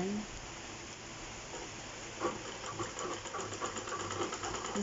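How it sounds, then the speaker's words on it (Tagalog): A treadle-powered sewing machine runs steadily while stitching a foot mat, a continuous mechanical whir and rattle with faint rhythmic ticking that grows a little busier toward the end, close and moderately loud. "Kailangan siyang padyakin para tumakbo yung makina para tatakbo siya."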